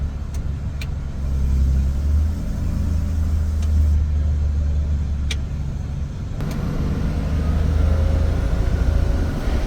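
A fire truck on a road test rumbles steadily with its engine brake, a low, continuous drone from inside the cab with a few faint clicks and a shift in tone partway through.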